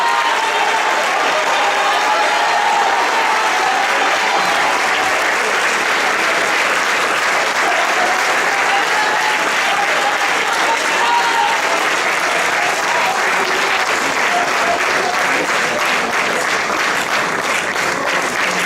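Sustained audience applause fills a hall at a 2016 boys' Shakespeare drama competition awards ceremony, dense and steady from start to finish with no pauses, a few voices faintly mixed into the crowd.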